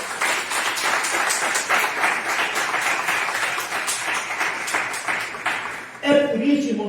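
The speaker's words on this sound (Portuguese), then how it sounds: "Você pode aplaudir o nome do Senhor." A church congregation applauds during a sermon on spiritual battle, a steady wash of clapping that breaks off near the end as a voice begins speaking.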